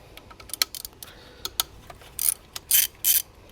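A 3/8 ratchet fitted with a T40 socket and extension works coil pack screws loose on a 2016 Chevrolet Sonic 1.8L engine, giving a run of quick, close clicks and clattering pawl bursts.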